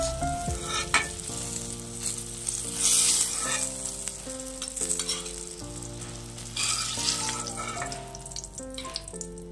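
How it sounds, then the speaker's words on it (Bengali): Eggplant slices fry in oil with a steady, fairly loud sizzle that runs through the whole stretch, while background music with sustained tones plays over it. No one speaks. "বেগুনটা এরকম ভাজা ভাজা হবে"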